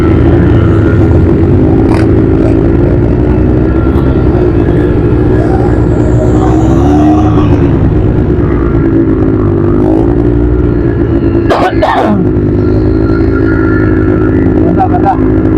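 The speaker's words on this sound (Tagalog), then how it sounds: "Daming nagmumotor ngayon. Dahil Biyernes ngayon, kaya maraming nagmumotor." Many motorcycles ride through a red-sand area of Riyadh on a Friday, a loud, continuous engine drone with rising and falling revs close by, and voices talking over it.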